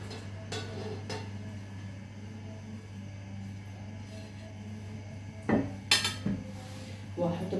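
Carrots being set into a baking tray for a seafood dish, with a few light clinks and taps of metal tray and utensils over a steady low kitchen hum, a short cluster of sharper clatters near the end.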